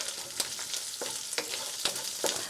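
Chicken curry ingredients stirred in a hot pan, an even sizzle punctuated by several scraping, clicking strokes of a spoon at an irregular rhythm, close by and without speech.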